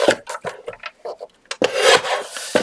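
Paper from a 6x8 pad is trimmed for an envelope flip journal, giving a string of close, loud scraping and rubbing strokes in short uneven bursts with brief pauses.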